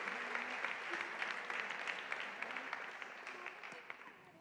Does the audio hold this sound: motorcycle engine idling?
no